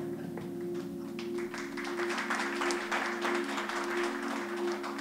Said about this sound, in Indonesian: Tepuk tangan aja, tepuk tangan orang punya pikiran negatif tuh.